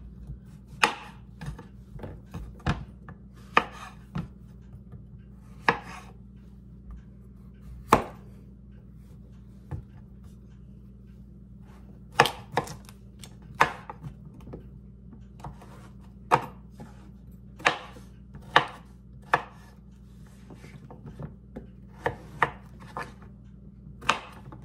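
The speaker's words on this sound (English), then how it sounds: "I have a couple small zucchini here. I'm going to go ahead and cut these up" A knife cuts small zucchini on a board, with sharp close chops arriving in irregular bursts and pauses, some spaced singly and others in quick runs, over a quiet low room hum.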